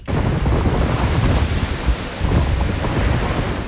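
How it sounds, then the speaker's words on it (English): Strong wind and rough sea pounding a small boat, a loud continuous roar of gusts and surging water with buffeting wind noise on the microphone, no voices. "listening to the wind and feel how the waves tosses Tessie around like a wine cork"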